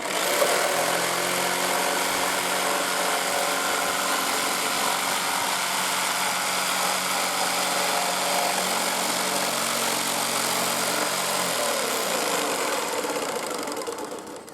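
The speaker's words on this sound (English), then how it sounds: "Notice when I'm using this jigsaw" A handheld jigsaw cutting through wood for a flower box, a loud, steady buzzing drone that holds without a break for about twelve seconds, then winds down.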